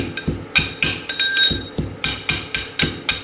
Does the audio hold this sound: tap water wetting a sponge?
no